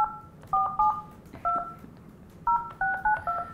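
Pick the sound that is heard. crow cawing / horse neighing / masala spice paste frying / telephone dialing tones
telephone dialing tones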